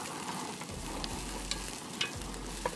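Onion fries in a pan with coarse natural salt, giving a steady close sizzle and crackle with a few sharper pops and a low hum underneath.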